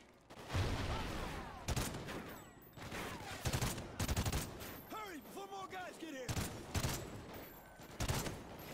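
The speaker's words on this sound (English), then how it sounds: "Didn't mean to shoot Keegan" Gunfire in the video game Call of Duty: Ghosts, with repeated bursts of automatic fire and scattered shots over a busy battlefield, with game dialogue and a voice speaking between bursts.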